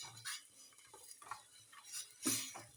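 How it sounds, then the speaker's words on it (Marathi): A large ladle stirs horse gram madgi in a pot, scraping and clinking against the metal in irregular strokes, with one louder scrape near the end; nearby and fairly quiet. "हलवायचं छान म्हणजे गुटळ्या व्हायला नको"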